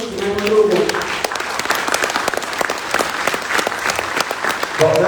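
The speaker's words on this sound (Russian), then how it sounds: "please give a round of applause for Dimitri" An audience applauds a speaker named Dimitri at an event in Almaty, dense sustained clapping across the whole stretch, with a voice briefly audible at the start and end.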